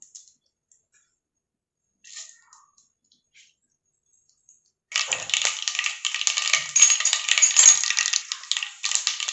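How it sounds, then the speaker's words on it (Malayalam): Mustard seeds spluttering and popping in hot coconut oil start after near silence as a dense, loud burst of crackles that continues steadily to the end, with a few faint clicks before it and no voices. "എണ്ണ ചൂടായ ഉടനെ കടുകിട്ട് കൊടുക്കാം."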